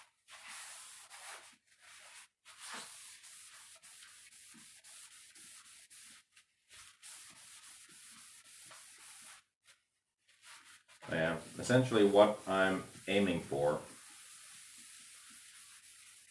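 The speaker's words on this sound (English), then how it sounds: "scuff sanding right now is just that, scuffing up the surface enough for hopefully clear coat to stick" Scuff sanding a painted surface to prepare it for clear coat, a soft, steady rubbing scratch running in short strokes, later joined by someone talking over it.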